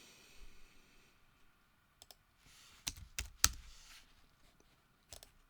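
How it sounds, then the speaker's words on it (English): Soft, scattered keyboard typing with sharp clicks, some in quick bursts and others isolated, against a quiet background. No voices. "Typing away messages to your friends on Facebook"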